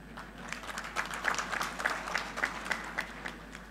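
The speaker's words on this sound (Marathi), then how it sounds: "ज्यांच्या आगमनामुळे आपण सर्वांनी खूप जोरदार टाळ्या वाजवल्या" A crowd at a political rally applauds, the clapping somewhat distant and faint over a low steady hum, settling into an even, rhythmic beat of claps.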